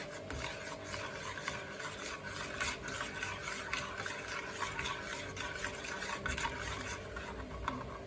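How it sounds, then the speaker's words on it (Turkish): Dibek coffee is stirred in a pot with water, a soft, continuous scraping and swishing that stays low and close without any talking. "Daha sonra kahvemizi iyice karıştırıyoruz."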